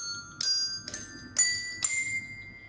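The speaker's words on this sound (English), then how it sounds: "Bells can also make music. Now I will show you how. Each bell has a different sound." Colored bells are struck one at a time, four clear ringing tones that each sound a different pitch and linger with a bright metallic shimmer in between.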